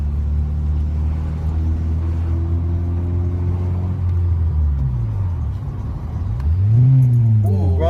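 Manual-transmission car revving as a learner drives stick shift, engine harmonics climbing and falling in steady revs, then a sharp rise near the end, loud and close with no talk over it.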